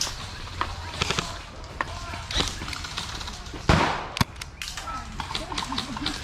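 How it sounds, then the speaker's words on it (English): An airsoft grenade goes off outdoors during an airsoft game, a sharp loud burst standing out over a background of distant shots, wind and people talking. "That was a grenade."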